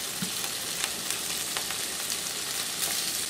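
Turkey pieces browning in a skillet give off a steady, close sizzle with soft crackles and pops, and no one speaks.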